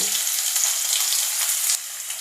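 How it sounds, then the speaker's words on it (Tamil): Sliced onions and green chillies sautéing in a pan for kurma, a steady close hiss of frying that eases off near the end, with no voices. "வெங்காயத்தையும் பச்சை மிளகாயும் நல்லா வதக்கிடுங்க."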